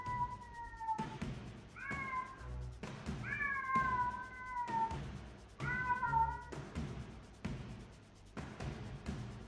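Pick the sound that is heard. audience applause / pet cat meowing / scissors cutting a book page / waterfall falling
pet cat meowing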